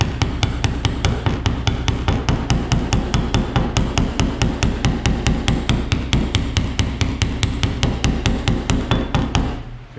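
A steel sheet metal body panel from a Shelby Mustang door is hammered with a shrinking tool, producing rapid, evenly spaced metallic blows close up, repeated dozens of times in a steady rhythm before stopping.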